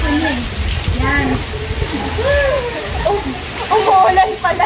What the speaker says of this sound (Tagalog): Ang lakas naman ng ulan.